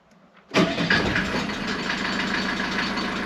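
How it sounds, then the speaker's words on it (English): A Mercedes W201 190D diesel engine cranks after glowing and catches at once, then settles into a steady, loud diesel idle close by. "At least the engine is running, that's good."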